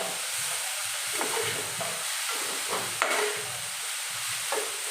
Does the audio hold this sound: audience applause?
no